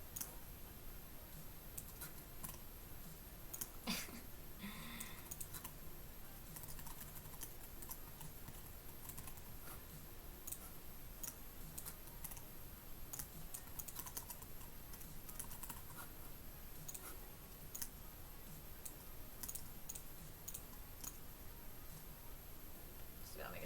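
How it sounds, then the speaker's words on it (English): Fast typing on a computer keyboard, a continuous patter of quick light key clicks held close for over twenty seconds, with a person speaking quietly at times over it. "type this out real fast."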